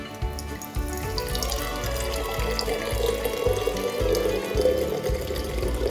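Soda water pours steadily into a container nearby, a continuous rushing, splashing flow with a fizzy hiss layered over it, lasting several seconds without talk.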